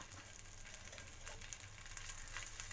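Idli pieces frying in oil in a pan, a faint, steady crackling sizzle with scattered pops throughout.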